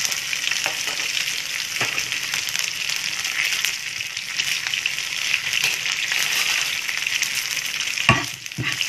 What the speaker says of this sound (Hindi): इनको हम तेल में हल्का सा चला लेंगे।